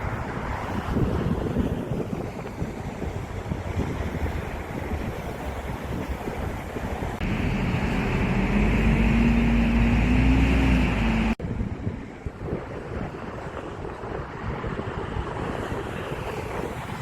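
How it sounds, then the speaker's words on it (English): Strong wind by the Han River in Seoul on a cloudy day buffets the microphone with constant loud rumbling gusts, a low droning hum briefly rising beneath mid-clip, with no talk. "Maybe you will hear wind sound loudly."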